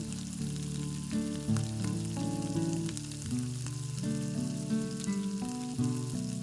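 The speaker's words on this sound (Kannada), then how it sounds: "ಈಗ ಟೊಮ್ಯಾಟೊ ಹಾಕೊಂಡು ಅದನ್ನು ಕೂಡ ಚೆನ್ನಾಗಿ ಫ್ರೈ ಮಾಡ್ಕೊಳ್ವ" Tomatoes fry in a pan for chicken curry, giving a constant close crackling sizzle with steady bubbling that carries on alone throughout.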